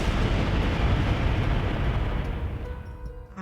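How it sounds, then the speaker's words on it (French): Powerful explosion in the video game Code:Realize ~Guardian of Rebirth~, a loud sustained rumbling roar that fills the scene and slowly fades over several seconds. "Le son d'une explosion puissante a fait son chemin jusque là où nous étions"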